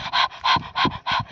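A voice imitates an overheated goat panting like a dog through an open mouth, with four rapid, loud, breathy huffs in an even rhythm, close and alone.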